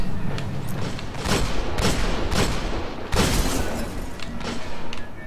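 Hand cannon fire in the Destiny raid Vault of Glass comes as repeated heavy booming shots at an irregular pace, mixed with other weapons and combat effects in a dense, loud battle.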